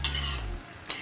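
A brief clatter of a spoon stirring crisp fried paneer through a chilli paneer mixture in a pan, a close scrape and low sizzle lasting about a second.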